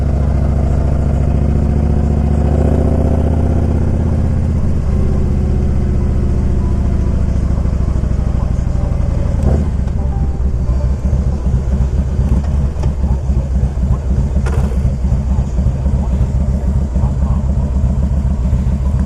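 A 2000 Harley-Davidson Electra Glide Classic motorcycle rumbles on the road with a deep, steady engine note, loud and close, with a throttle change partway through and someone talking over it.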